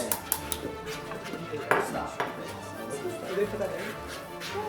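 Utensils scrape and clink against a bowl as ingredients are mixed for baking at home, with a few sharp knocks, while people talk in the background.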